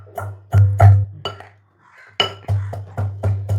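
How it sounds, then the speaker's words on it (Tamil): Ginger, garlic and onion pounded together in a mortar with a pestle, a run of close, sharp knocking strikes in an uneven rhythm with a brief pause midway. "இனி இதை போட்டு ஒண்டா இடிக்கணும்."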